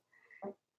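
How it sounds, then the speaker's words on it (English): A short, low, rasping burst lasting about a quarter second, preceded by a faint higher squeak; close and fairly quiet, with no talking. "I hope that fart didn't come out in the video"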